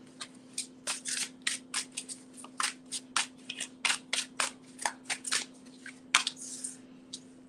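Tarot cards being shuffled and drawn, a steady series of soft, crisp card flicks and slides, close and fairly quiet over a low constant hum, with no talking.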